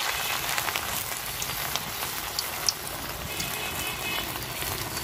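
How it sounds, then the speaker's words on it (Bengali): Cabbage pakora fritters fry in a pot of hot oil, giving a steady, dense crackling hiss that sounds almost like rain and runs close and even throughout, with no talking. "পাতিলে তেল দিয়ে দিছি, তেলও গরম হয়ে গেছে। তো এখন এই যে বড়াগুলা দিয়ে ভাজা নিব।"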